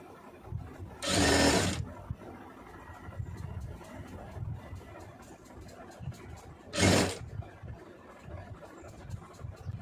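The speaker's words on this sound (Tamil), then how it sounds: "ரெண்டாவது மடக்கில் அப்படியே தையல் போட்டுருவோம்" A sewing machine stitches a folded fabric hem in two short, quick bursts, with quiet handling sounds between them.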